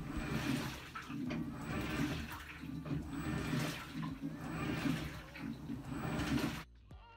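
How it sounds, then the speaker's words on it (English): Water rushing into a General Electric washing machine during its fill cycle, a steady gushing flow with slight surges, close and moderately loud, cutting off abruptly at the end. "You want to keep an eye on the washer when it's on the fill, just to make sure it's filling up with enough water."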